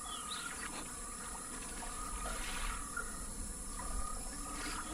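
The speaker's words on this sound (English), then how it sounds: "Listen to the frogs" Frogs croak in a dense outdoor nighttime chorus, a continuous layered chirring and trilling with scattered calls rising above a steady wash of background noise, no voices.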